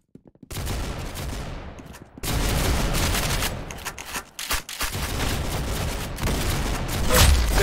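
Rapid, loud gunfire from the Roblox game Arsenal opens after a brief quiet moment and continues as a dense barrage of overlapping shots and bursts, with a heavier blast near the end and no talking.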